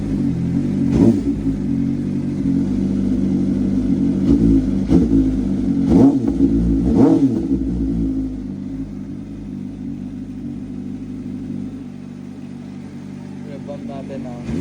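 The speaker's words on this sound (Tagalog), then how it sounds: "Rev pump na natin." A CFMoto VOOM 500SR motorcycle with an electronic exhaust valve idles from a cold start, a loud, steady, close rumble broken by several short throttle blips. The revs settle back to a slightly quieter idle toward the end.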